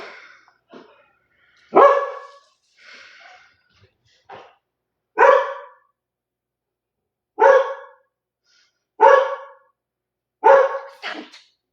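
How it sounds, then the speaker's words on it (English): A dog barks indoors late at night, about half a dozen loud, sharp barks in irregular bursts with short quiet gaps between them and no talking. "Don't bark. Don't bark."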